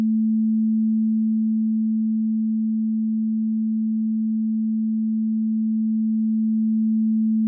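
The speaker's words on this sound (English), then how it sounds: "If I decrease the volume for the y-coordinate sine wave, the horizontal axis is elongated." A pure, steady low sine tone holds unbroken at moderate volume, alone and unchanging throughout, its level dipping very slightly in the middle.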